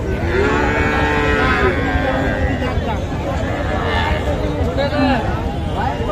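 Bull calves and other cattle moo repeatedly at a busy livestock market in Kaharol, with overlapping calls near and far over a steady crowd murmur and chatter.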